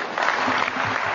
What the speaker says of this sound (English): Tepid applause